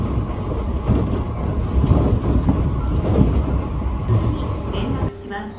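A Kintetsu semi-express bound for Gose rumbles along the rails near the Osaka–Nara border, a steady close interior roar with soft rhythmic wheel clatter that drops away sharply near the end.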